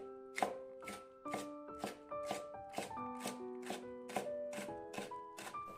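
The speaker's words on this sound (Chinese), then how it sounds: "然后给它切成细丝" A knife slices a seeded green pepper into thin strips on a cutting board, about ten steady rhythmic chops close up, each crisp knock landing over a quiet background of soft music.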